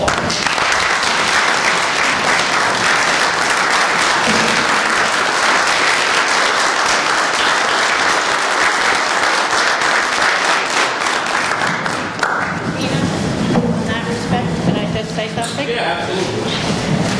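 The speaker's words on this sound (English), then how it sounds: "I wish everybody would give him a big round of applause." Sustained applause from a town meeting audience in New Hampshire, dense and steady for well over fifteen seconds, thinning slightly toward the end with some voices mixed in.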